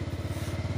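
A motorcycle engine runs during a riding lesson, a close, steady low putter with rapid even pulses throughout this short moment, with no voices.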